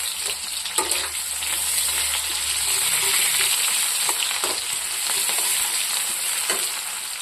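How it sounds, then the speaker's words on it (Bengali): Chopped onion, green chilli and potato fry in oil in a kadai (wok), giving a steady, loud, close sizzle and hiss throughout, with occasional stirring scrapes and no talking. "আর এখানে কাঁচা লঙ্কা, পেঁয়াজ, এটা দিয়ে এখন ভাজবো।"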